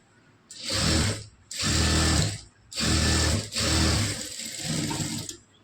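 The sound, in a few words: sewing machine sewing a press stitch on a blouse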